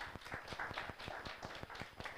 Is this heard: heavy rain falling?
no